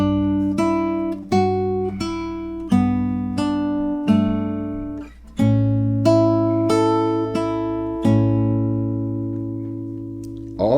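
An acoustic guitar in open D tuning picks a slow melody, single notes plucked one at a time in a steady rhythm, each ringing and decaying cleanly, heard close without speech.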